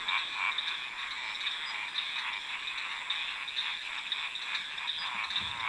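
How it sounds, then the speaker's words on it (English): A dense chorus of frogs croaking through the night, steady and loud, with overlapping rhythmic calls forming a continuous wall of sound with no voices. "the frogs are putting on a show that is hard to miss"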